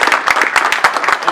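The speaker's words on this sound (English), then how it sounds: "round of applause for Sherry" A short burst of clapping from an audience at a university blockchain event, quick overlapping hand claps, close and fairly loud.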